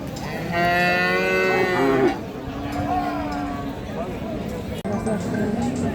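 Australian cattle at Kalampur cattle market give a loud, drawn-out moo with rising harmonics, then lower lowing follows amid a busy crowd murmur and nearby voices.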